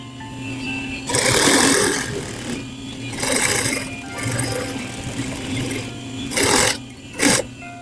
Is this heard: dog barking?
no